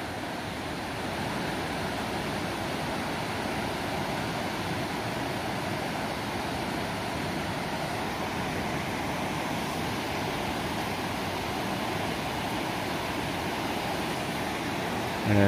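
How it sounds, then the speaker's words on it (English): A spring near Great Falls, Montana, where water bubbles up, gives a steady, even rush and gurgle at moderate level, continuous and unchanging without voices. "there are different parts of it where you can see that the water is bubbling"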